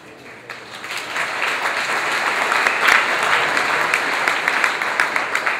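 Loud, steady applause from a crowd at a tea party rally in Melbourne, Florida, a dense wash of clapping that swells and holds for several seconds with no voices over it.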